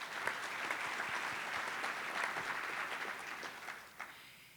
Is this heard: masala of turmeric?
no